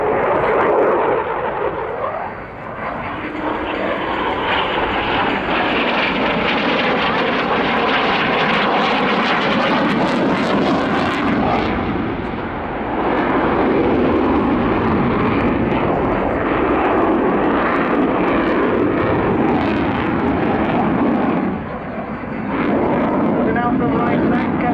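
A display aircraft flies inverted at the Royal International Air Tattoo airshow, its engine roaring loud and continuous with rising and falling pitch as it passes, under an announcer's commentary throughout.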